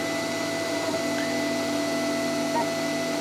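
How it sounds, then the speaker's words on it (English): An older Flashforge Creator Pro 3D printer with an 8-bit board and old drivers prints a calibration cube, giving a steady, noisy mechanical whir with a constant tonal whine and a few faint stepper chirps. "I'm printing out a calibration cube. I mean, it's obviously an older style printer, 8-bit board. You can tell how noisy it is."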